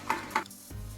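A fork clinks twice against a bowl while stirring an egg mixture with parmesan, two quick close taps followed by a soft low scrape, with no talking.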